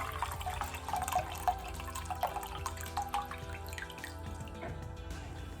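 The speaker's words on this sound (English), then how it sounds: "So I'm gonna drain them into that to see how much brine we have." Brine from pickled jalapenos is drained through a strainer into a measuring cup, making a close, continuous trickle with irregular drips and small splashes at a moderate level.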